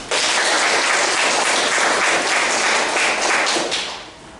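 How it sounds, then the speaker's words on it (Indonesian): A classroom of students applauds a group presentation with loud, dense clapping that holds steady and then tapers off near the end. "kita kasih tepuk salut untuk kelompok Afrilia atau kelompok kelas kecil yang telah mempresentasikan hasil diskusinya"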